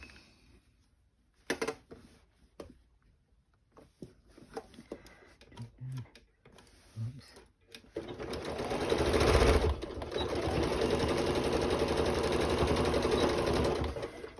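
A sewing machine stitches pockets for a fabric take-along basket, its fast continuous whir running steadily through the latter half after scattered clicks, handling sounds and brief talk at the start.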